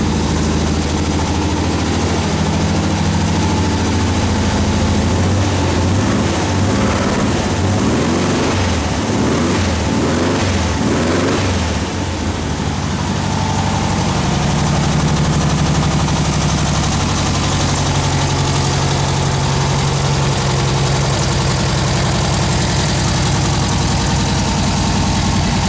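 An old Volkswagen car engine idles steadily on choke with a fuel leak, a loud continuous low rumble with a brief rapid rough pulsing patch midway, then settling back to an even drone with no talk.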